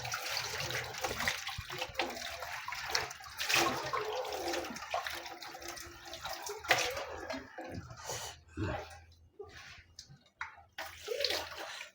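A utensil is rinsed under running water at a home kitchen sink, with splashing flow that swells and breaks off in uneven spurts, plus small clinks and drips nearby.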